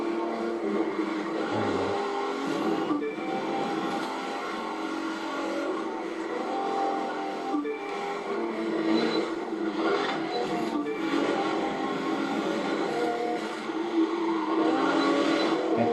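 A car in The Crew 2 with its engine stuck at the highest RPM, a steady high-pitched racing drone that holds without shifting gears, mixed with scraping and rumbling from the road.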